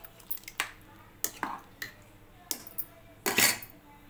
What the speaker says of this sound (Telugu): మసాలా అంతా కలిసే వరకు ఒకసారి ఇలా కలుపుకుందాం